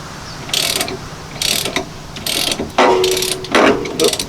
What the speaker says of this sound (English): Hopefully I can run the puller here, have it push on the bolt,